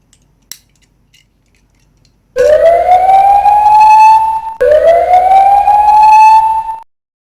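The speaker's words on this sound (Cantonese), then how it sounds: "police car" A toy police car siren sounds after a brief click, two loud rising electronic wails in quick succession, each climbing and holding before cutting off, close to the listener.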